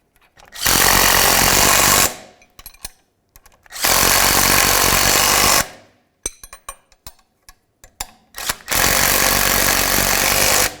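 A power tool runs down the locking nuts on the lower ball joint bolts of a 2000-2005 Buick LeSabre, giving three loud sustained buzzing bursts of about one and a half to two seconds each, separated by clicks and small clanks.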